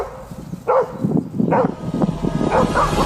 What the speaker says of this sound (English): The dogs continue barking and position themselves closer to the moose